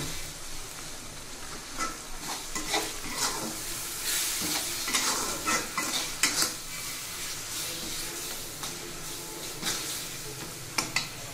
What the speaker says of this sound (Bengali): এবার সব একটু নেড়ে চেড়ে নিব।